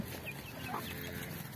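A black Kadaknath rooster clucks faintly in a village setting, soft calls sitting low in a steady wash of outdoor background noise, with no voices.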